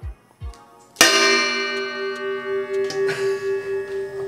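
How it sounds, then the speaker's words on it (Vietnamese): A temple bell rings once with a bright struck onset and a long sustained metallic hum that pulses slowly as it fades, preceded by a couple of soft low knocks. "Nghe tiếng chuông chùa luôn á."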